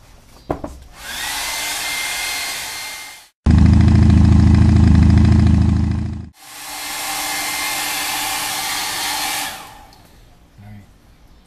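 A hair dryer blowing on wet paint, switched on in long loud continuous bursts, with a short pause where the tone drops lower and heavier before the steady high rush returns, then cuts off, with faint handling noise.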